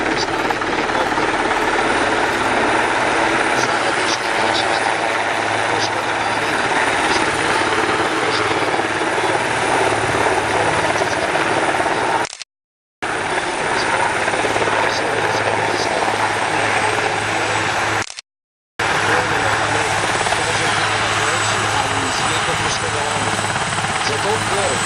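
Military helicopter operating during an emergency casualty-evacuation exercise, with two marshallers guiding it to its landing spot, gives a loud, continuous rotor and engine roar throughout, with someone speaking over it.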